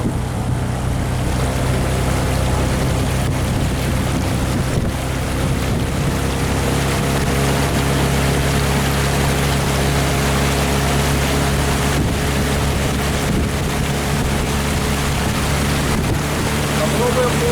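A 9.9 hp outboard motor pushes a wooden boat across the water, giving a steady, loud engine drone under water wash and wind that carries on without a break the whole time.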